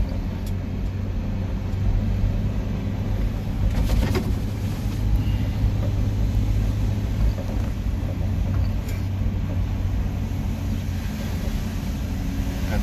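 Subaru Sambar hicab kei truck driving in third gear on street tires, a steady low engine drone and road rumble running continuously, close and even in level throughout.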